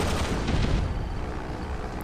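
Artillery cannon fire from the video game Yuri's Revenge booms in a dense, rumbling burst, loud and close at first, then settling into a sustained low roar.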